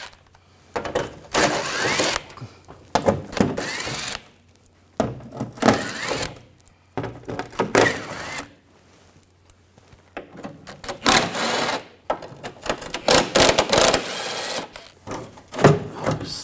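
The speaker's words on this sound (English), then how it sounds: "We're going to remove this shield using an 8mm socket." Ratchet with an 8mm socket removing the underbody shield bolts on a 2007-2013 BMW X5, heard as close, loud bursts of rapid clicking separated by short pauses.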